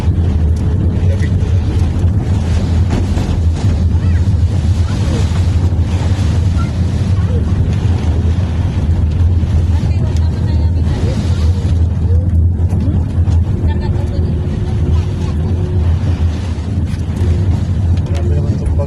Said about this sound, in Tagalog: Grabe naman itong bagyo na to.